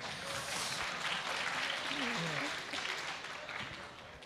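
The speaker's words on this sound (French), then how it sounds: "Vous pouvez vous applaudir et c'est pas gênant hein, les uns les autres." Students from a French lycée applaud one another in a hall, a quiet, steady wash of clapping heard from some distance, with faint voices mixed in.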